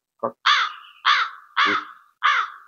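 A crow caws loudly and close by, five harsh calls in a slow, evenly spaced series separated by brief silences.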